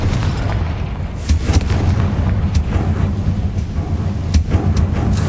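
A Confringo blasting spell fires in a video game, with rapid repeated booming bursts and sharp cracks over a continuous low rumble, loud and close.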